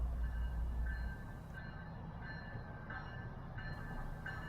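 A Brightline train rolls slowly across the new Crane Creek rail bridge in Melbourne, Florida, a faint, distant low rumble with thin tonal wheel squeal rising and fading over the track.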